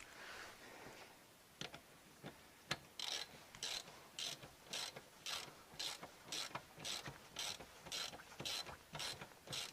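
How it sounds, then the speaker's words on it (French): A torque wrench ratchets while tightening a large rear brake kit, first with a few scattered clicks, then a steady run of quick, even clicking strokes, faint and close. "On va venir serrer gentiment avec la clé à cliquer."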